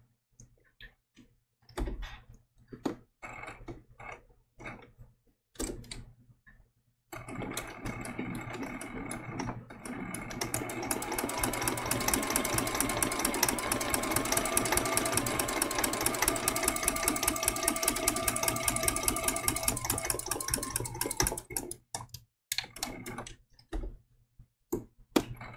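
A sewing machine free-motion stitches through layers of fabric and heat-and-bond for a baby giraffe appliqué quilt; scattered ticks and clicks give way to a long steady fast run of stitching, then stop into intermittent clicks.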